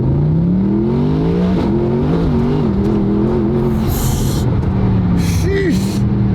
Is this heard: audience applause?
no